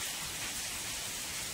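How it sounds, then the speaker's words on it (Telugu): Heavy rain pouring steadily during a prolonged storm in Telangana, a dense, constant broadband hiss of falling water with no voices over it. "మళ్ళీ ఇప్పుడు 3ంటికి స్టార్ట్ అయింది వాన."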